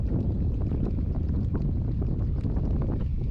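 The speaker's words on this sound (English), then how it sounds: "Like, that wind's messing it up." Wind buffets the microphone out on the water during a fishing trip, a loud, steady low rumble that goes on with no break and no voices.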